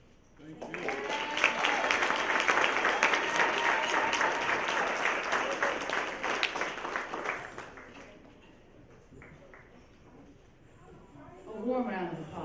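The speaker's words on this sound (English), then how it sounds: "A warm round of applause." Audience at a gala clapping warmly, a dense burst of applause that builds quickly, holds for several seconds, then tapers off to scattered claps before a voice returns at the end.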